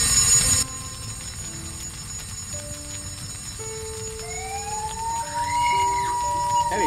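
A fire engine siren from The Fruit of Grisaia visual novel wails in rising and falling sweeps. It comes after a brief burst of noise, sits under a steady background hum, and grows louder toward the end.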